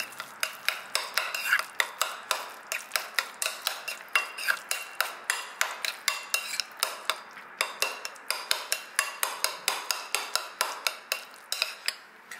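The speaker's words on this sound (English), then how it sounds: "and I'm gonna add the mayonnaise now oh extra creamy! yeah, I love it I'm going to mix it up" A utensil stirs mayonnaise and egg into an isopod sushi filling in a bowl, making about thirty quick, evenly spaced scraping clicks in a steady rhythm, close and fairly soft, with no voices.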